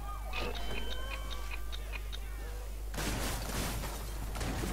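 A police car siren in the video game Hatred wails in rising and falling sweeps, then gives way to a dense burst of gunfire and chaotic noise, all fairly quiet in the mix.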